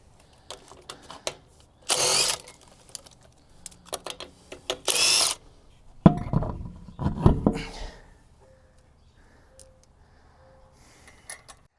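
A small impact wrench on a Ford pickup truck rattles in two short bursts, loosening lug nuts during a tire rotation, followed by clanks and handling noises of the nuts and tools nearby.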